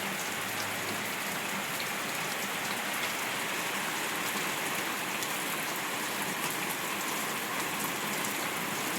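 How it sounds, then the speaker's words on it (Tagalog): Heavy rain pours steadily on an outdoor home surface, a dense, loud, continuous hiss with no breaks or talking. "Mas lumakas pa po yung ulan."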